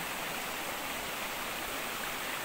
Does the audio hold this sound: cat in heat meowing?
no